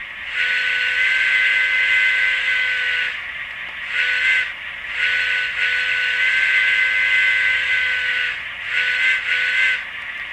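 A Rapido N scale EMD FL9 model locomotive air whistle sounds in long sustained blasts with brief breaks, loud and close, over a faint background hum.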